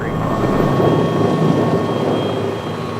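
A Bell 429 helicopter lifts off at an airfield with a loud, broad engine and rotor roar that holds steady and heavy throughout, close by.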